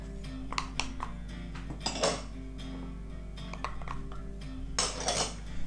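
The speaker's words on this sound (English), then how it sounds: "Make sure you mix all this through before you add your butter." Dry caramel slice base ingredients stirred together in a bowl, a spoon clinking and scraping against the bowl in irregular strokes over a low steady hum, moderately close.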